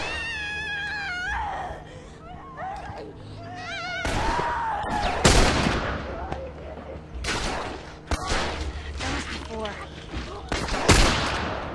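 Gunfire from The Last of Us during a fight with infected: sharp, loud shots land one after another, scattered through the stretch amid enemy shrieks and someone talking over the action.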